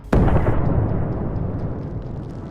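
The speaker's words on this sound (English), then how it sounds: "This shot hit the tank directly and caused a massive explosion, fully destroying it." A tank struck by a Javelin missile erupts in a single massive blast, a sudden loud boom followed by a long, rumbling decay with no talk.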